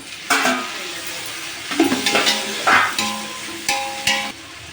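Onions fry in a pan for a prawn dum biryani while tomatoes go in, giving a close sizzle with a few sharp spoon clinks and scraping stirs against metal.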